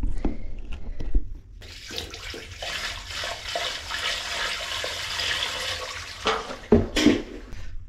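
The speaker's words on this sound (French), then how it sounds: "Je vais essayer de bien viser, de verser mon seau d'eau dedans." A bucket of water is poured into a PVC toilet drain pipe while fitting a Geberit Duofix concealed frame, a sustained rushing, splashing gush near the mic lasting several seconds, followed by a few louder splashes at the end.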